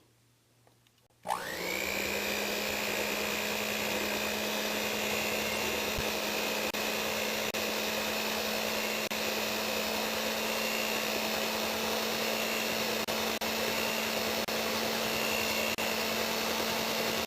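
An electric mixer beating egg-free maple cookie dough, switching on abruptly after a quiet moment and then running as a steady, loud, continuous whir for the rest of the time.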